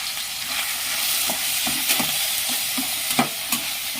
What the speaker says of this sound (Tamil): இதை இப்போ நல்லா மிக்ஸ் பண்ணி கிளறி விட்டுறோம்